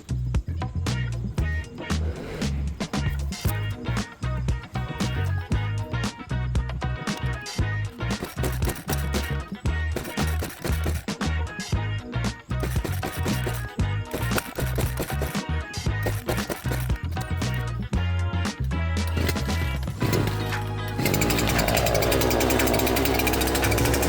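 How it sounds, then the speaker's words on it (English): A small chainsaw fitted with a 36-inch bar and full chisel chain cuts through a huge log, a loud, continuous rattling roar with steady chatter lasting the whole stretch. "even this little chainsaw ate through that huge log with this 36-inch bar and the full chisel tooth chain"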